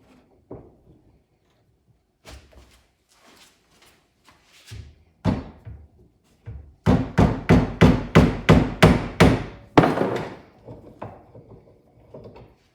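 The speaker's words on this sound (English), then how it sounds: "you usually hit it with a hammer" Hammer blows drive a car's turbo pipe onto its threads: scattered single knocks, then a fast run of about nine loud, sharp metallic strikes in steady rhythm, tapering to a few lighter taps.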